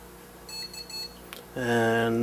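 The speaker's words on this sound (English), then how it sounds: "And those beeps mean that it's booted." A homemade Linux-based pool control computer signals that it has finished booting: a short run of faint, high electronic beeps, followed by a louder, sustained tonal sound.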